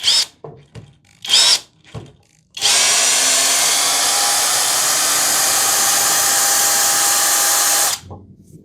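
A Hanabi LJ-2023 cordless screwdriver backs a screw out of wood: a few short bursts of clicks and knocks, then one long steady high-pitched motor whine for about five seconds before it stops abruptly.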